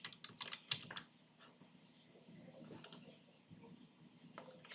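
Computer keyboard typing while writing C++ code, with irregular bursts of clicking keystrokes close by and short pauses between them, no talking.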